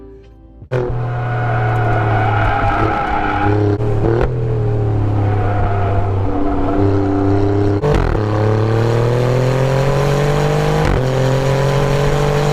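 An Alfa Romeo Giulia QV with about 97k miles laps a race track, its engine loud and close, roaring up through the gears with rising pitch and abrupt shift breaks, no voices.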